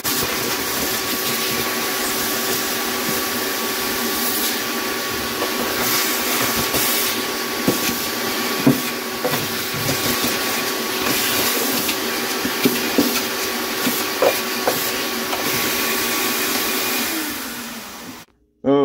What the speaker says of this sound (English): Do you find videos of people vacuuming up crud in cabinets satisfying?